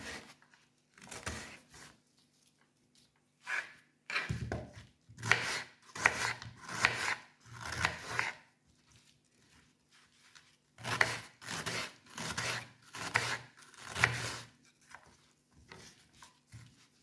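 Washed sop is cut ahead of frying, with repeated rough, rasping strokes coming in bursts separated by short pauses, close and fairly quiet, with no talking.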